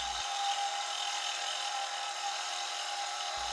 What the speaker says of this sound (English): I finally got the speed correct and went all out drilling the main body.